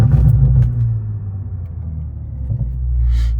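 A big-turbo BMW 540i in sport mode gives off a deep, loud engine rumble that swells and settles, heard up close with no talking.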